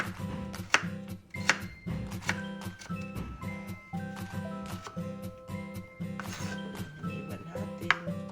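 A knife chops carrots into small, even pieces on a board in a home kitchen, a steady run of sharp, close taps repeating about every second over a low background hum.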